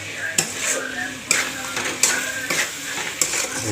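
Potatoes and egg cook in a pan, a soft continuous sizzle broken by four sharp clanks of a utensil striking the pan as the food is stirred.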